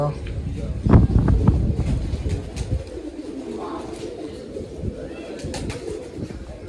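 Pigeons coo in low, throaty bursts near the microphone, with a brief rush of wind noise partway through.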